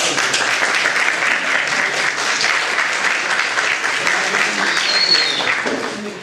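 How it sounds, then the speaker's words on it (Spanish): Audience applause fills a hall in Uruguay, a dense steady clapping from a large crowd that holds loud throughout and tapers slightly at the end. "¿Y qué les parece si le damos un aplauso?"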